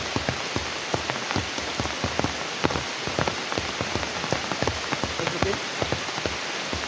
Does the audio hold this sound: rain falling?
yes